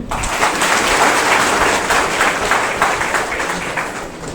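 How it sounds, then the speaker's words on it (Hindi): Audience at a school merit award ceremony in Silli, Jharkhand, gives steady, full applause, loud and sustained across the whole stretch with no talking on top. "ताली बजाएंगे?"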